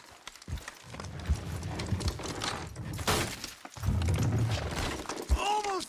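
Horses in a Western video game drag down a wooden structure with a loud splintering crash and clattering hooves, sharp breaking bursts rising over a busy mix with brief voices.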